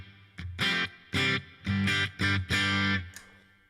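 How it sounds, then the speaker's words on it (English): Electric guitar through a Fractal amp modeler playing a few distorted chord stabs with short pauses between, each chord trailing into a brief roomy reverb tail. "have an always on room reverb, which is like a sum plate"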